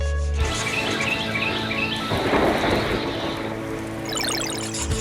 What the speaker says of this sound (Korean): 파도, 바람, 천둥, 새소리와 같은 자연의 소리.